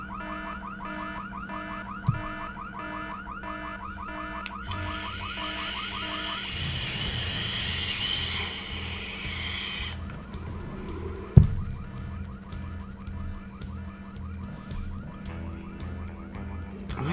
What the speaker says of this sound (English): Wonder who set off the alarm, Floyd.